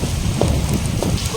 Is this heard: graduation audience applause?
no